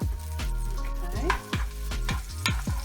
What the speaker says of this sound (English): Until you can kind of smell the garlic cooking.